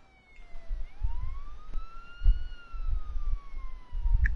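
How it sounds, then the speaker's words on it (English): Police car siren in a police simulator video game, a wailing tone that sweeps up and down steadily, moderately loud, with low rumbling engine and game noise beneath. "it's just our cop car right here."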